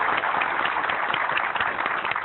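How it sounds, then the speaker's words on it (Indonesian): An audience at a motivational talk breaks into sustained applause, a dense, even wash of clapping throughout, with no speech over it. "Boleh tepuk tangan sekali lagi untuk."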